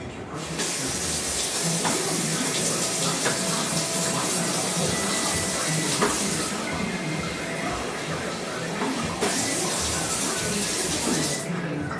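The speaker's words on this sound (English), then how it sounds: "I'm going to add a little bit more water." Water pours steadily into a pitcher for iced tea, a continuous close rushing splash with slight changes in tone as it fills.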